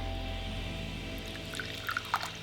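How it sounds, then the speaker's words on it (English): Coffee pours steadily into a cup in a continuous liquid stream, fairly close, with a few small splashes near the end and no talking. "Can you pour yourself a little bit of coffee as well so we can just do a little coffee cheers?"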